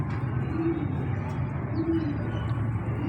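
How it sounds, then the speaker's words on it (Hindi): Kabootarbazi pigeons coo softly and repeatedly over a steady background hum, a few low throaty calls spaced across the moment. "कबूतरबाजी वाले कबूतर हैं"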